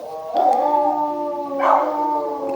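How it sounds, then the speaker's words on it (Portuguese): Several dogs howl together nearby, long wavering tones with higher yips rising over them, loud and steady, then swelling into a second surge of howls. "Ixi, cachorrada."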